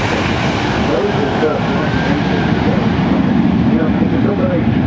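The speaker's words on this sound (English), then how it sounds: "Starting the takeoff run, this is Boeing's multi-mission maritime patrol aircraft." A Boeing P-8 maritime patrol jet, a militarized 737, starts its takeoff run at the Farnborough Airshow 2014, giving a steady, loud, broadband engine roar. A commentator talks over it.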